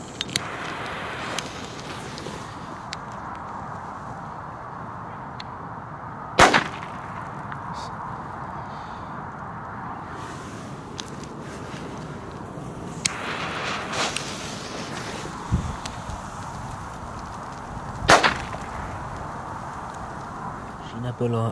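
A few sharp, sparse Komet China-Böller A firecracker bangs crack out at irregular intervals over a steady background hum, fairly distant and not very loud.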